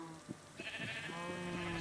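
Sheep bleat repeatedly in the video game Minecraft, several short nasal calls in quick succession over a steady soft background of game music.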